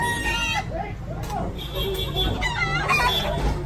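Chickens and roosters on a Philippine backyard farm with makeshift coops crow and cluck repeatedly, several birds overlapping at moderate distance, while people talk in the background.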